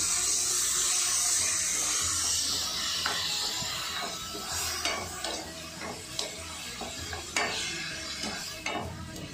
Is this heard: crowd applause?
no